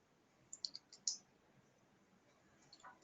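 A computer mouse clicks in quick succession while working in hospital pharmacy software: four or five faint, close clicks in the first second, then near quiet.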